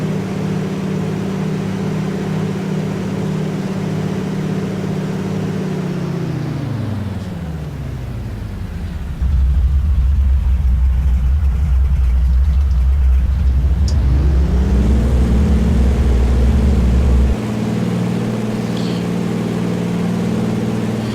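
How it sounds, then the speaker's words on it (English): An airplane in a flight simulator game stalls while modelling a spin entry: the steady engine drone sinks in pitch into a low, rumbling burble, holds there, then climbs back up to a steady tone. No one speaks. "the airplane has a nice burble, a nice burbling sound"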